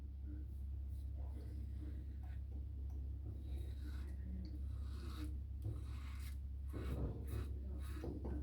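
A carved Christopher Bradley safety razor with a B-plate and a Gillette Ruby blade shaves stubble with quiet, close scratchy strokes. The rasping rubs repeat irregularly over a faint low background hum.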